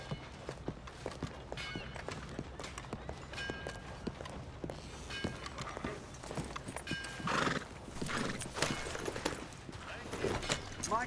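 Horses in Red Dead Redemption 2 move at a brisk pace with rapid clip-clopping hoofbeats and occasional whinnies, while characters talk over the hooves.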